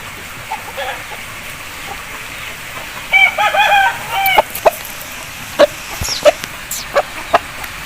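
An Aseel rooster crows nearby, a long warbling call, followed by scattered short clucks and chirps from Aseel fowl over a quiet outdoor background.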